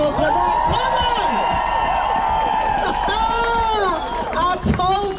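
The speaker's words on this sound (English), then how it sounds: "You gotta give him another round of applause for that." A dense, steady roar of applause and cheering from a large outdoor crowd at a cost-of-living protest rally on Downing Street, with shouting voices rising through it, loud and sustained throughout.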